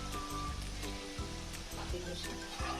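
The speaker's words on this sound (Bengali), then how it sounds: "ভালোভাবে নাড়াচাড়া দিয়ে চিকেনটা ভেজে নিচ্ছি" Chicken pieces being stirred and fried in a pan: a soft, steady sizzle runs throughout, with occasional scraping knocks from stirring and a faint voice in the background.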